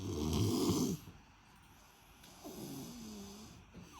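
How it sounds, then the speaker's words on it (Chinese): A four-year-old child snores loudly while sleeping with an open mouth, one heavy rasping snore up front, then a quieter pause and a softer drawn-out snoring breath. "晚上睡觉的时候打呼噜声音比大力声音还大"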